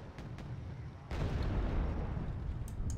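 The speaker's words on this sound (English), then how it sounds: "Cluster munitions are exploding on target." Cluster munition rockets exploding on target in Wargame Red Dragon, a sudden heavy blast erupting into a rumbling, crackling roar of bursts that stays loud to the end, with a couple of sharp pops before it.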